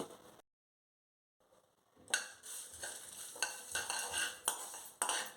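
Rice stirred into sizzling spices for a sundried turkey berry tamarind gravy, with a metal spoon scraping the pan after a short silent gap; repeated loud stirring strokes over a steady fry, close by.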